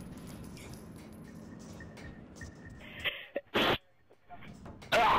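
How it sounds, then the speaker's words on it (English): A person sneezes near a microphone during a casual gaming session with friends: quiet chatter first, then a couple of abrupt, loud bursts close to the mic, and another at the end. "Ah, I sneezed."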